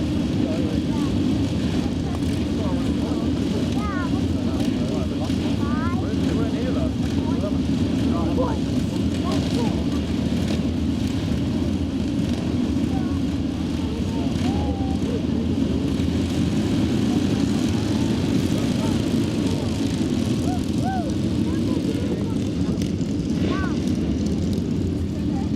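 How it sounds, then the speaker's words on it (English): A 1970s motorcycle engine starts and keeps running outdoors on grass, a steady droning rumble that holds for the whole stretch with no break, joined by faint birdsong and occasional light background noise. "sometimes with these 1970s bikes, they do take a little bit of starting up, so here we go"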